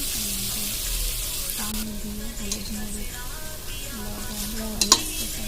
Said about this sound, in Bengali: তো আমি পেঁয়াজ কাঁচামরিচ সব কিছু ভাজা নিতেছি।